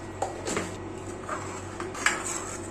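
Fish curry stirred in a pot on an induction cooker: a few light, scattered clinks and scrapes of a spoon against the pot over a low steady background hum.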